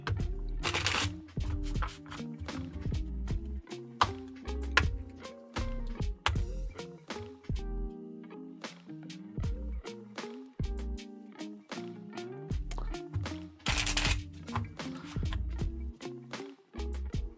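Rapid riffling and snapping of tarot cards being shuffled, repeated in bursts with soft taps between, close up and steady throughout.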